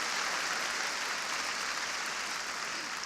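Steady, dense audience applause fills a large hall at the National Urban League's 2017 State of the Urban League address, an even roar of many hands clapping throughout without speech.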